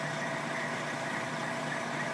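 A fire engine idles steadily at night while firefighters flush a hydrant pump, a constant mid-level engine hum with rushing noise and no pauses.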